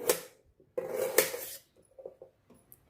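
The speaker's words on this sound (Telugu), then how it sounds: "ఈ ముక్కలు ఇట్లా అన్ని ముక్కలు చేసుకుందాము" A knife cuts carrots into pieces for carrot halwa, giving a few sharp, close taps against the board, then a short run of softer clicks.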